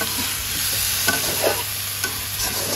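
Small fish fry in hot oil in a pan with a continuous sizzle, interrupted by a few soft scraping stirs of a utensil, close and moderately loud.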